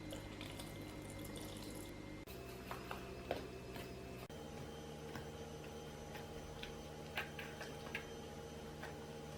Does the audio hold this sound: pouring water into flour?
yes